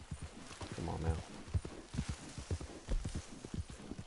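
Horse hooves clip-clopping at a walk in the video game Red Dead Redemption II, a steady series of soft, close thuds with a brief snort or whinny.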